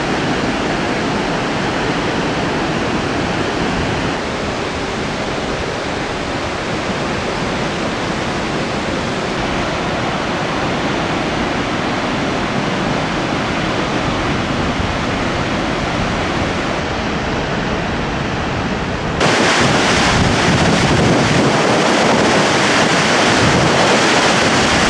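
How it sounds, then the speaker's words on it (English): Augrabies Falls in a national park roars as a large waterfall, a constant broadband rush of crashing water with wind buffeting the microphone, loud and unbroken for the whole stretch, growing harsher near the end, with no voices. "those there behind that rock wall must be the big falls."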